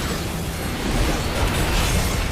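A massive cannon blast in Final Fantasy XIV gives a loud, dense roar of explosive noise that fills the whole moment with sustained booming and crackling.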